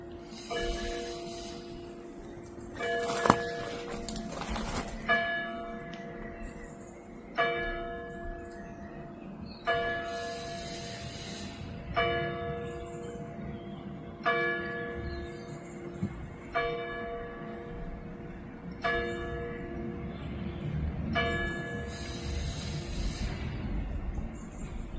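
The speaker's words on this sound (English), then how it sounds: "Listen to the bells." Church bells ringing outdoors near a garden, a repeated series of resonant strikes at a steady slow pace, moderately distant, with light background ambience and no talking.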